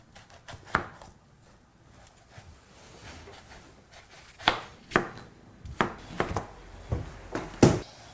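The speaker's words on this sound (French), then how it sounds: "je te laisse découper les pommes, les éplucher et les couper en petits dés" Knife chopping apples into small dice on a board: scattered sharp taps, then a faster run of crisp, close chops near the end, with quiet pauses between.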